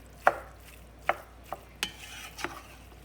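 Ground beef gets worked into onions and celery in a pan with a handful of sharp, separate scrape-and-tap strokes spaced about half a second apart over quiet background, close and fairly faint, no talking.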